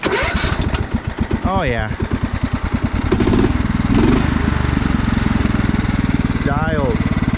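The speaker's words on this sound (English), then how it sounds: "I think this motor will start for us" A Craftsman riding mower engine cranks in rapid pulses, catches and settles into a loud, steady mid-pitched running note. Revs rise and fall twice along the way, and a voice speaks briefly.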